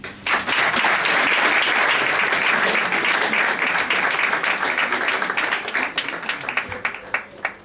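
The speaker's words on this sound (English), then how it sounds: "I think this was a good place to clap" Loud, dense audience applause at a book launch swells quickly and holds steady, then thins into scattered individual claps toward the end.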